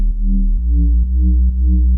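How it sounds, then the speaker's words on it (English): A synth bass from the Hurt Locker preset in Ableton, built from two triangle oscillators for a speed garage track, plays a deep sustained tone that moves through a few pitch changes over two seconds, loud and alone. "So to make the bass, we're using the preset Hurt Locker from my Production Hut pack."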